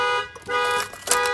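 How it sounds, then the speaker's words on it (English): An Avital 3305 car alarm sounds after a car door is opened, a loud steady electronic siren with sustained harmonic tones that swell and dip, a sharper burst near the end, and no voices. "That will set off the alarm."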